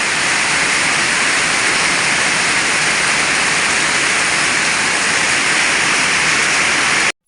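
A continuous, loud roar of a waterfall after heavy rain, steady and broadband, as if standing close by, ending abruptly.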